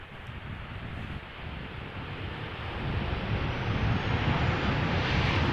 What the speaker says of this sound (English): 737-800 arriving from Helsinki. KLM flight 1166.